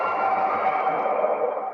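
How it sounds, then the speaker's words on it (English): Pneumatic air gates on a theme park ride hiss and whoosh in a steady, sustained rush, heavily reverberant and echoing as if in a large enclosed space, with no talking. "Oh, the air gates."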